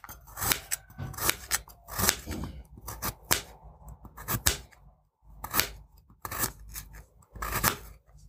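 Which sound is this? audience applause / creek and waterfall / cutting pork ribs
cutting pork ribs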